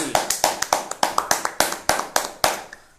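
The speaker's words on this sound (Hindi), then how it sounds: "जोरदार तालियां हो जाए इनके लिए।" Steady, evenly spaced hand claps, close and fairly loud, from what sounds like one or a few people, greeting a third-place nominee at an online public speaking competition's result announcement.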